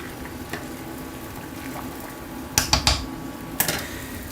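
Pasta being stirred in a pot over a steady simmering background, with a few sharp clicks and scrapes of the utensil against the pot near the end, close by.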